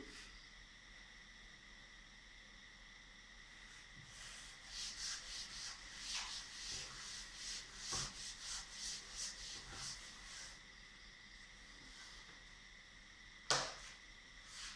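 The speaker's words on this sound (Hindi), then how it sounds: "मैं ये रब कर रही हूँ" A classroom board is rubbed in a quiet room, with a run of rhythmic back-and-forth scrubbing strokes in the middle and a sharp knock near the end.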